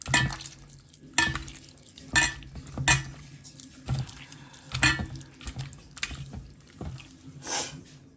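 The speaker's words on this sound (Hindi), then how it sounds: "अब इसको मैश कर करके ना इसका पूरा पल्प निकाल लेते हैं" A spoon scrapes and knocks against a small bowl while mashing boiled kachri into pulp, giving irregular soft clinks and scrapes, close and fairly quiet, with no talking.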